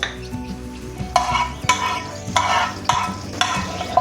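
Grated coconut is stirred and roasted in a hot pan: a spatula scrapes in regular rhythmic sweeps over a light sizzle, close and fairly loud, with no talking.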